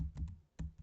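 A few quick keystrokes on a computer keyboard while writing a Java program, close and faint, as soft irregular clicks in under a second.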